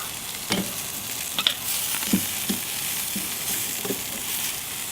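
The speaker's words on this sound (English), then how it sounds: "Now we're going to take our chops off while they're still sizzling" Steady sizzling of spicy pork chops cooking on a hot grill, with a few soft clicks and scrapes over the constant hiss.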